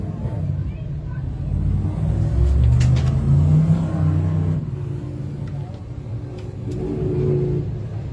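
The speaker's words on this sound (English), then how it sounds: "Looks like Dockstader is able to fire the car back up" A sportsman-class race car engine restarts at a dirt track, its rumbling mid-pitched roar swelling and revving steadily through the whole stretch while an announcer talks over it.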